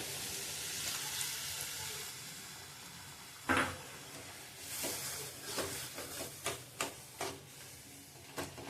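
Grated coconut and milk stir-fried in a pan for a soft coconut sweet, with a low steady sizzle under a loud clack followed by a run of rhythmic scraping strokes of a spoon against the pan.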